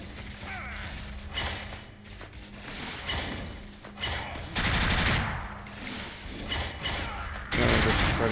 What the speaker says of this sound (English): Oh, we can shoot so many of these stakes now.